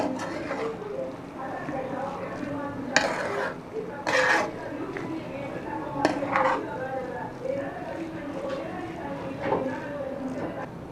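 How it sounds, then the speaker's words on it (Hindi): A spoon stirs potato and egg masala in a metal pot, with intermittent scraping knocks against the sides while a voice talks in the background. "अब इसको अच्छी तरह मिक्स करेंगे"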